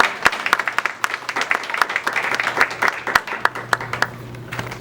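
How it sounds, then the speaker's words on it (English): Scattered hand claps from an audience at a spoken-word poetry event, greeting the next performer; sharp individual claps ring out at an uneven rhythm rather than a dense ovation, with a steady low hum underneath. "Give a hand clap one time."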